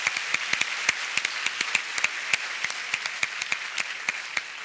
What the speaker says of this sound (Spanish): Yo creo que él se merece el aplauso antes que nosotros esta vez.